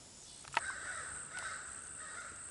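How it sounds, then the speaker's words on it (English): Crows caw a few times at a distance, two or three harsh calls spaced apart over a quiet outdoor background. "even the cackling of the crows gets on my nerves"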